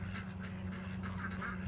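Ducks quack at night, a run of several short nasal calls in uneven rhythm, fairly faint and set a little way off over a low steady hum.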